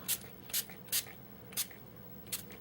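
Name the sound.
spraying a product from a spray bottle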